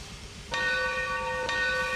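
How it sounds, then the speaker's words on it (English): A locomotive bell in the Trainz 2022 train simulator rings twice about a second apart, bright tonal strikes sustaining over a low rumbling hiss. "Nice bell."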